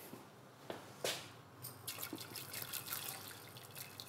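A litre of water boiling in a cooking pot on a kitchen stove, giving faint, steady bubbling with scattered drips and small splashes, close by and with no voices.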